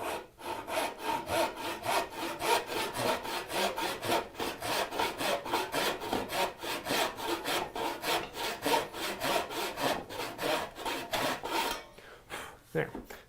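Hand saw cutting a diagonal stroke into wood for a stopped dado, a steady fast rhythm of rasping push-pull strokes, close and continuous for about twelve seconds before slowing to a few final scrapes.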